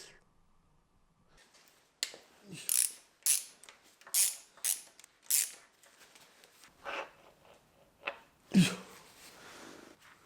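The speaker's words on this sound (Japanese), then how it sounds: "燃料ポンプのさっきのレバーが押されて、で、カチャカチャ動くような感じみたいです。" On a dismantled Kent engine from a Caterham Super Seven, the fuel pump lever rides the camshaft and gives a quick series of light mechanical clicks and clacks, close and fairly faint, with a little talk nearby.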